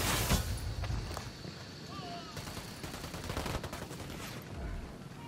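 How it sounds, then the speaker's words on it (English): Assault gunfire in the video game Ghost Recon Wildlands: repeated shots and rattling bursts crackle through a dense, noisy battle mix, holding at a steady loudness across the whole stretch. "I'm opening fire on these shitheads."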